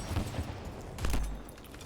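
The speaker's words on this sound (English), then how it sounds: "Now using the sniper. It's one hit kill." Sniper rifle shots in the video game Anthem, two punchy reports about a second apart against a low background rumble, fairly close and with no talking.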